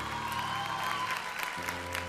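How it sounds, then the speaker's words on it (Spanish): Audience applause in a TV singing competition studio for a contestant just eliminated, a broad steady wash of clapping over low music tones throughout. "Un aplauso para Montserrat, por favor"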